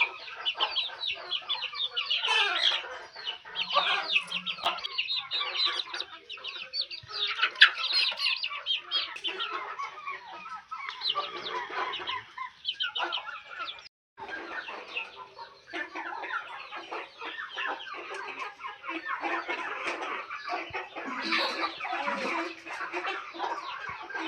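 Chickens on a poultry farm cluck continuously, a busy flock of overlapping clucks and short calls heard close and fairly loud, with no talking.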